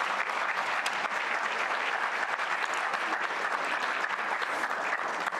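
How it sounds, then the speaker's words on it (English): A conference audience at an African-American history and culture event applauds a presenter, sustained, full-room clapping that stays even and loud from start to finish without anyone speaking. "another round of applause"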